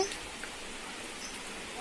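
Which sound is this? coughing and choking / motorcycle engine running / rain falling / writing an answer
rain falling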